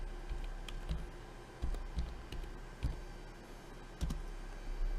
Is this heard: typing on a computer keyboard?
yes